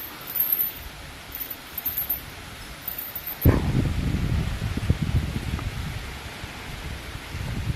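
Wind gusts in partway through, stirring a steady rustle of leaves that swells and stays fairly loud, with faint high chirps early on.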